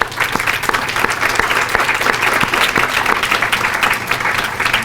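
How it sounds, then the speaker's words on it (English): Loud, continuous applause from a crowd at a school honors celebration, with individual sharp claps standing out throughout. "Let's give the faculty who are here a round of applause."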